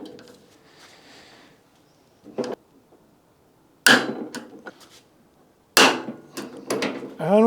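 Sharp metallic clicks and knocks from a wrench tightening bolts on a Citroën Mehari/2CV suspension, with a short early burst and then two louder clusters of close ratcheting impacts separated by quiet gaps.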